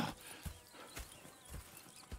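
Horses in the video game Red Dead Redemption 2 clip-clop at a steady walking pace, hooves landing in a slow, even rhythm at moderate distance with no voices.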